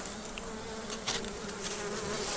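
Honey bees buzz inside a hive holding full frames of honey in November, a soft continuous hum with brief louder passes as individual insects fly close.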